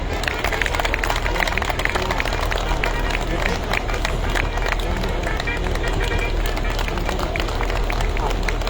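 A stage celebration audience breaks into strong applause, dense and continuous clapping with crowd noise holding at a steady loud level from start to end.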